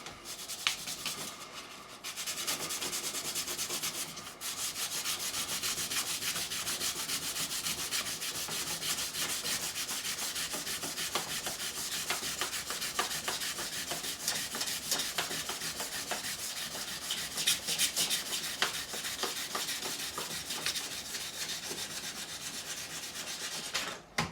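Steady hand sanding of a wood surface with fine 400 grit sandpaper, a continuous close, even rubbing hiss with a light back-and-forth rhythm, heard alone without talk.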